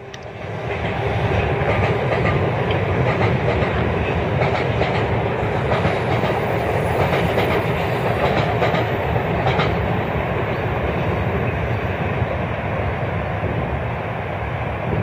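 A North Jersey Coast Line commuter train rumbles steadily past on the rails at Woodbridge, New Jersey, loud and close, with a continuous roar and faint clattering throughout.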